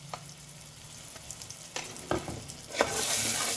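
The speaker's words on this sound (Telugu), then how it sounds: "ఫ్రై చేసుకోవాలి బాగా." Ginger garlic paste, coriander powder and turmeric fry into a masala in a pan for ivy gourd curry. A soft, steady sizzle runs under a few scraping stirs, and the hiss swells louder near the end.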